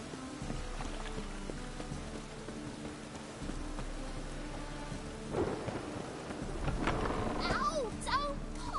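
Rain falling steadily in a town with deep rolling thunder building louder toward the end, with some voices and faint sounds mixed in.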